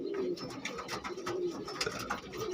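Pigeons of the Fulshira and Kalshira breeds coo steadily in a loft, several soft, throaty calls overlapping close by with faint chirps around them, no voices.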